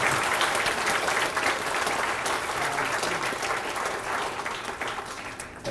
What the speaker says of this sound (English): a big round of applause to you.